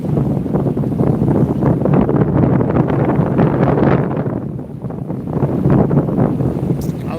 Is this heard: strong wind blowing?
yes